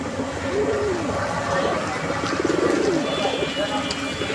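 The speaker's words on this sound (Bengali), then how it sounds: "আমরা নটটার ডাকটা আপনাদেরকে দেখানোর চেষ্টা করলাম" A male pigeon coos in repeated low, throaty rolls close by, steady and rhythmic over a busy background of rustling and other birds.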